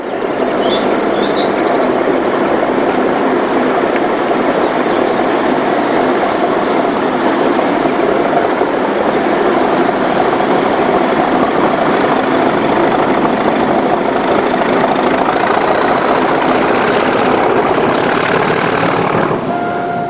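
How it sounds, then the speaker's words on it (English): The White Rose Express, a charter railtour from Westbury to York, pulls away with a loud, continuous rumble of locomotive engine and rolling wagons that holds steady throughout. "the setting off of the White Rose Express from Westbury to York"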